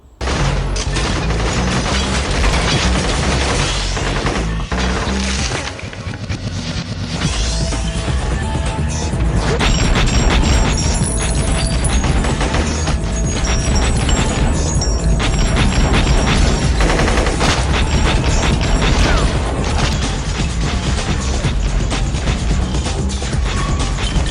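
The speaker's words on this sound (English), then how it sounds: "Here we go, full auto. It works." Loud, dense, continuous rattle of a KWA VZ61 airsoft gun firing on full auto and semi-auto, sustained harsh bursts filling most of the stretch with a brief dip near the start.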